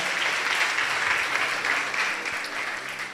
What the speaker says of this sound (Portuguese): Aplauda Jesus por esse casal